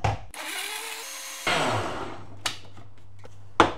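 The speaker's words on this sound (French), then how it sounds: "je viens foutre tout ça dans le mixeur" A kitchen blender mixes a banana milkshake made with milk and vanilla ice cream. The motor whirs and rises in pitch, then short bursts and clunks of the jug follow, close up and fairly quiet, with no talking.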